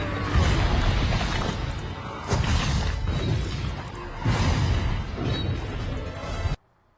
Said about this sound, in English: foot comes down as the T-Rex crushes him to death